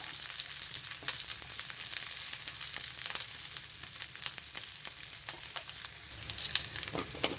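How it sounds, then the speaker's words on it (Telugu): Chopped onions fry in a pan for a mushroom masala curry, giving a steady, close sizzle with crisp crackles and pops scattered throughout and no voices. "ఈ ఉల్లిపాయలు కొంచెం మగ్గాలి"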